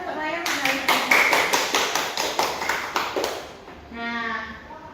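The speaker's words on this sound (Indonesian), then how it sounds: "Beri tepuk tangan untuk Maya." Classroom applause for a student, a steady round of many hands clapping rhythmically up close for about three seconds, then fading as a teacher's voice takes over.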